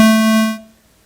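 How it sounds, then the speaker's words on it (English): A synthesized harmonic tone, rich and buzzy, holds steady at full volume for about half a second, then fades out smoothly under a shaped volume envelope, leaving near silence. "First of all, we're going to shape the volume."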